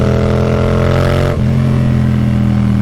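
A 2019 Yamaha MT-07 motorcycle under way, its engine a loud, steady drone close up; the pitch drops as it shifts gear midway, then holds.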